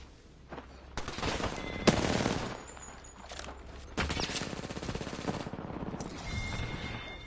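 Rapid automatic gunfire in the video game Apex Legends, dense bursts of shots rattling almost nonstop, loud and close, with brief gaps between volleys.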